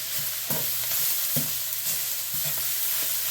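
Lamb chops frying in bacon fat in a black cast skillet, a steady close sizzle with a low hum beneath and several soft scraping stirs spaced through it, no voices.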